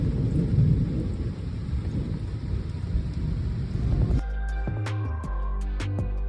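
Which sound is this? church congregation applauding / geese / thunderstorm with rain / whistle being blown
thunderstorm with rain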